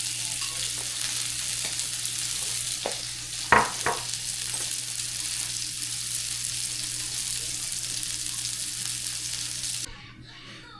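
Onions sizzle on a hot grill beside a steak burger, a steady broadband hiss running throughout with a couple of brief spatula scrapes and taps near the middle, before the sizzle cuts off abruptly near the end.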